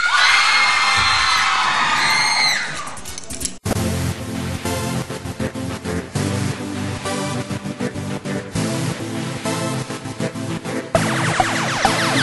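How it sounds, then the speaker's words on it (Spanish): Loud crowd cheering and shouting for a boys' dance group rises for a few seconds, then cuts to thumping, pulsing music with heavy beats that carries on to the end. "¡Aplausos para los chicos!"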